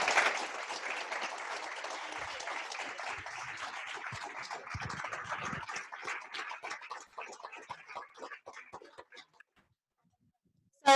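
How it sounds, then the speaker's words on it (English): An audience applauds panelists at an open house event, dense steady clapping that thins into scattered claps and fades to silence near the end. "Can we please give them a great big round of applause?"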